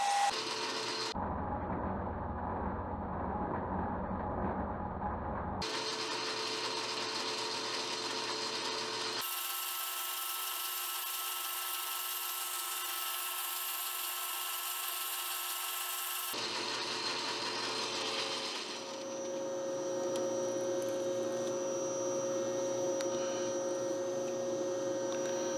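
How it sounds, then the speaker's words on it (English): Machine shop noise from a lathe drilling and tapping a 1/4-20 hole in metal for a set screw, in distinct stretches: a steady motor hum, then a high whining drone, then a lower running hum with a faint tone, continuous throughout. "we need to go back to the lathe, and we'll drill and tap this 1/4-20 for a set screw"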